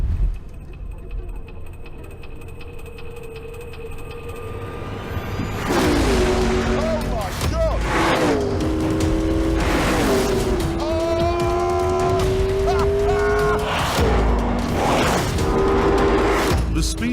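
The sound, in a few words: McLaren P1 supercar driving fast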